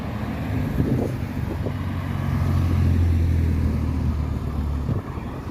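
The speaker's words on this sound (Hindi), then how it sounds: "अभी ट्रैफिक आ रही है दोनों तरफ से" Road traffic on an English street passing from both directions, with a car engine rumbling closer and louder through the middle before fading away, heard from the roadside with no talking.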